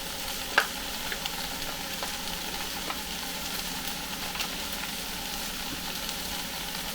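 Cumin and other spices sizzle steadily as they toast in a pot for butternut squash soup, a continuous close frying hiss broken by a few soft stirring scrapes, with no talking.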